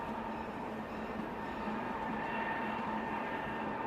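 A steady low rumble of a moving mountain railway train carries on without a break, with a faint hum over it and no voices.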